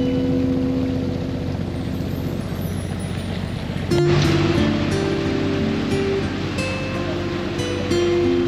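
Ocean surf rolls onto the wild western Tasmanian coast as a steady, close wash of broadband noise, with a brief tonal hum and faint clicks appearing partway through.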